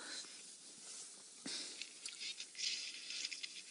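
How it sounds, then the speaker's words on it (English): Rain jacket fabric rustling and brushing close against a microphone on a live safari broadcast in the Mara Triangle, a steady hiss of crinkling with louder scuffs and bursts in the second half. "Otherwise, all we can hear is Jeandre's rain jacket"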